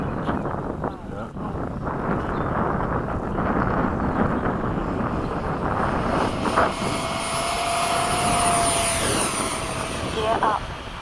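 A propeller airplane engine drones steadily during low, slow, high-alpha formation flight, loud and close with wind noise, while pilots talk over it.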